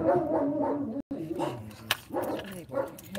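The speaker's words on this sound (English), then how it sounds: "they're German Shepherds. Barking at anything." German Shepherds bark several times in short bursts while a person talks over it nearby.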